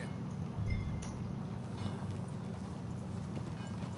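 Horse hooves clip-clop at a steady riding pace in the video game Red Dead Redemption 2, a continuous rhythmic thudding over a low rumble, moderately loud and without speech.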